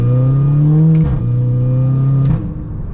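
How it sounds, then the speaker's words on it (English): A VW Golf GTI engine revs hard in second gear while the clutch slips, a loud, close, sustained drone that rises and holds, dips briefly, then climbs again. "it builds up RPMs, but it doesn't go forward or anything"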